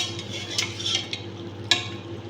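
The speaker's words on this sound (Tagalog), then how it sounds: "Pinaghalo natin. Ayan, haluin natin." Biryani ingredients with meat are stirred in a pot over a steady low sizzle, with a spoon scraping at intervals and a few sharp clinks of metal against the pot.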